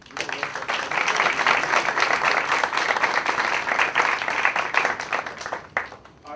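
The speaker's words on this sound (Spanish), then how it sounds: "pues un aplauso para la doctora" Applause for a doctor after an astronomy talk, a dense, even stretch of clapping from an audience in a hall, holding steady for several seconds before tapering off.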